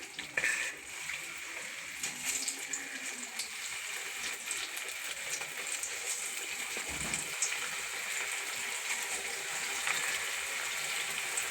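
Chicken vadas frying in hot oil produce a soft, continuous bubbling hiss with small crackles throughout, fairly quiet and steady with no speech.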